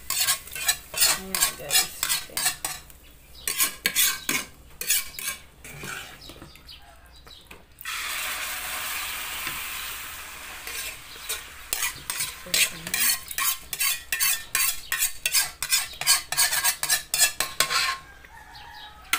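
Sautéed garlic and shallot stirred into a pot of mung bean stew, a spoon scraping the pot in quick rhythmic strokes with a stretch of sizzling in the middle; a voice speaks briefly.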